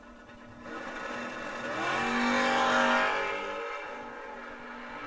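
Drag race cars at the Mike Smith Memorial Race, a long roof Chevy II and a first-gen Camaro, roaring past as a broad engine rush that swells loud in the middle and fades, with no talking.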